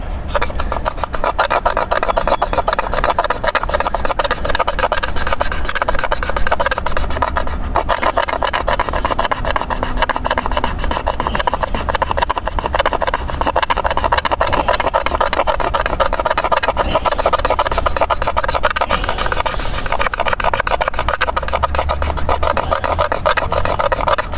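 Continuous harsh rasping of a bamboo fire saw, wood rubbed rapidly back and forth against bamboo, a loud steady scraping that goes on without pause.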